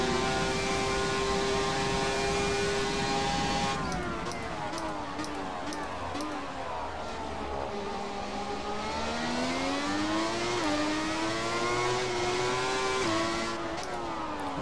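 The V12 engine of a 1995 Ferrari 412 T2 Formula 1 car in the F1 2017 racing game on PS4 howls steadily, its pitch dipping and climbing through gear shifts and corners, while someone talks over it.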